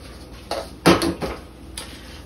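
Elbow noodles are mixed with adobo and paprika in a bowl, a few close clattering and scraping strokes with one louder clunk in the middle, with no talking.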